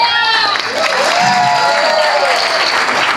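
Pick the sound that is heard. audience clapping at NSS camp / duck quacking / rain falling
audience clapping at NSS camp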